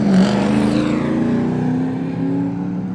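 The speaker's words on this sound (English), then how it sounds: "really experience the sound, the fury, the excitement of a NASCAR race" A NASCAR stock car engine roars loudly at a speedway during a simulated qualifying run, its pitch sliding downward as it passes close by, a steady droning snarl over three seconds with no voices.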